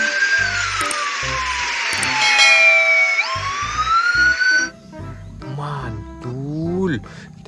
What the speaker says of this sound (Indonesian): Widih-widih, mobil polisi.